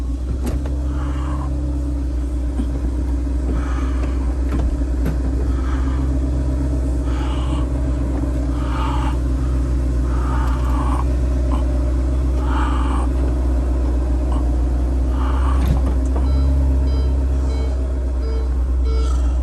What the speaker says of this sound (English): Just gotta put the roof down.